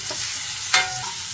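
Onions and green chillies with salt sauté in a pan, a soft continuous sizzle broken by a quick scrape of the stirring spoon, close and without speech.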